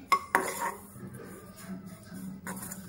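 Dry coconut is dry roasted in a pan, with two sharp metallic spoon clinks at the start, soft scraping as it is stirred and another clink near the end, all quiet with no talking.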